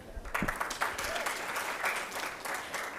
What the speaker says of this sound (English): So yes, much more applause, please.